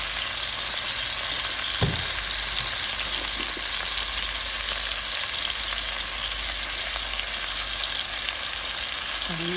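Chicken sautéing in a pan for a simple chicken curry, a steady close sizzle and fry hiss running throughout with a brief stir or clank near the start.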